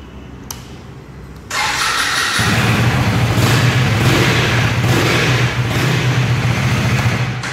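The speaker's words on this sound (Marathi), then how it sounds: "आता मी तुम्हाला या बाईकला स्टार्ट करून दाखवतो" A 2024 Husqvarna Vitpilen 250 motorcycle is started indoors at a showroom: a brief click and whir of the starter, then the engine catches loudly and settles into a close, steady idle.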